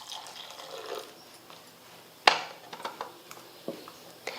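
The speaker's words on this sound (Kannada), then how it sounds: "ಇದಕ್ಕೆ ನೀರು ಹಾಕಿ ತೊಳಿಬೇಕ್ರಿ" Water poured over grated potato to rinse out the starch, with soft trickling and a few sharp splashes and drips in a quiet kitchen, no voices.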